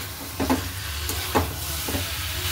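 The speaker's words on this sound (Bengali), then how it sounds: "আলুগুলো দিয়ে ভালো করে কষাবো" Potatoes sautéing in a pan, a soft continuous sizzle close by with three or four short scraping stirs spaced about a second apart, no voices.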